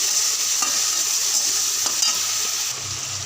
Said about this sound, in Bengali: এবার সবগুলো একসঙ্গে ভালো করে কষে নিতে হবে।